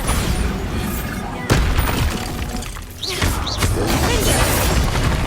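Spell explosions boom and crash repeatedly in Hogwarts Legacy combat, a loud blast near 1.5 seconds followed by a dense, continuous rumble of impacts and shattering debris, with a couple of short whooshing spell sounds around the three-second mark.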